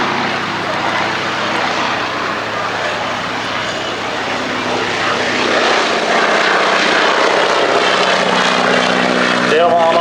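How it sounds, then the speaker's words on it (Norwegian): A Stearman biplane built in California, powered by a seven-cylinder 220 hp radial engine, drones loudly past at an airshow, the propeller roar swelling toward the end while an announcer talks over it. "Den flytypen er jo et Stearman, heter det, bygd i California"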